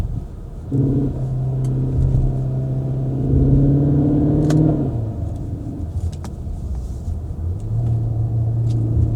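A Cupra Terramar plug-in e-Hybrid with a DSG gearbox drops down from fourth via the steering paddles. The engine drone runs steadily, then its pitch jumps sharply around each downshift before settling into a lower, rumbling hum.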